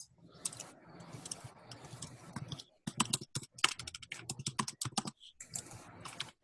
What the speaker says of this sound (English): you're just typing in something like I just did